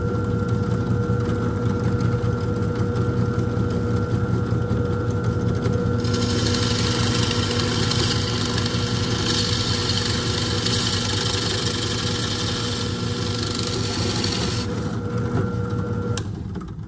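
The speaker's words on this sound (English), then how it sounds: "Let's head on over to the drill press." A drill press runs steadily with a loud motor hum and mechanical whine, its pitch brightening partway through as it drills, then winding down at the end.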